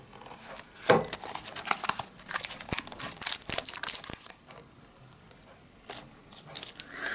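Protective plastic film is peeled off a Ugreen 2.5-inch drive enclosure in a run of close, crinkly tearing and crackling bursts, loudest early on and thinning to a few scattered crinkles.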